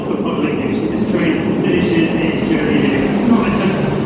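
A South Western Railway class 159 diesel unit arriving at Exeter, a steady loud rumble of engine and wheels running throughout, with a voice talking over it.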